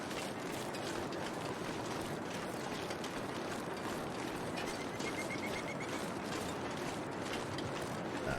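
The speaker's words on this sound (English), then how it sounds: "you're wondering what that sound is, there's a big waterfall over there." A big waterfall in The Long Dark thunders as a constant broadband rush through the whole stretch, steady and unbroken, with no voices over it.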